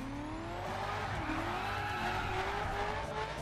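A BMW 5 Series drifting in The Crew, a steady engine drone in second gear with a rising and falling tire squeal running continuously underneath, close and sustained throughout with no talk.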